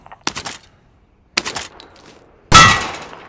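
Gunfire hits targets at a training range in Call of Duty Modern Warfare, with three separate sharp bursts of shots and brief metallic pings between them, the last burst the loudest.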